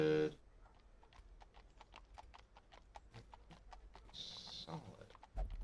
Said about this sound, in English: you can hear the horses in the background